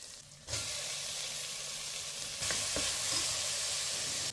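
Onions and tomatoes sizzling with curry leaves in a hot pan: a loud, continuous frying hiss that jumps up as the ingredients go in, with a brief stirring scrape, close up.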